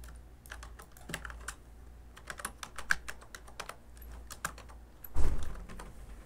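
Keys tapped on a computer keyboard while a name is typed into Illustrator, a steady run of light, close clicks with brief pauses and one louder thump near the end.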